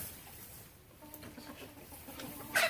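A few chicken clucks rise faintly from steady outdoor background noise, ending in a slightly louder squawk.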